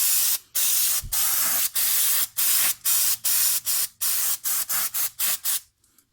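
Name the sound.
brake cleaner being sprayed onto a car's wheel hub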